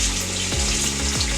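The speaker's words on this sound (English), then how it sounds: "I'm just rinsing out my brush with the water" Running tap water splashes steadily into a sink while a makeup brush is rinsed under it, a loud, continuous close-up rush with a couple of brief shifts as the brush moves through the stream.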